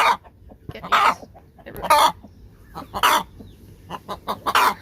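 Hens on a farm cluck and squawk in repeated loud, close bursts with short pauses between them, with no talk over the calls.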